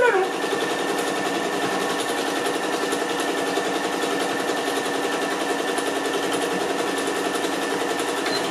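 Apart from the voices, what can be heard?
sewing machine stitching a beach tote bag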